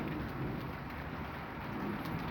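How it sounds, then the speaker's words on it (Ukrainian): Steady rain patters throughout, with a low rumbling background that suggests distant thunder; no voices. "гримить і дощ капає."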